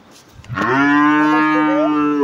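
A Holstein Friesian dairy cow lets out a single long, loud moo close by, starting after a brief quiet moment and holding steady and strong until the end.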